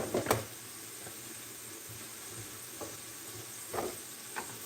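Food in a pot on a back burner is stirred during soup cooking, with a soft steady sizzle and hiss punctuated by a few light scraping knocks of the utensil, faint and close.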